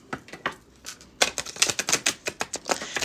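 Tarot cards shuffled by hand give a quick run of crisp riffling clicks and slaps, close and fairly quiet, picking up in density through the second half.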